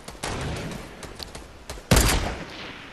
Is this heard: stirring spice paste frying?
no